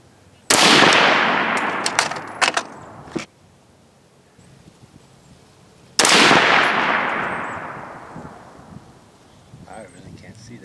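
Two loud, sharp rifle shots from a Joint Force SPR ring out about five seconds apart, each with a long echoing decay outdoors, followed by a few softer clatters.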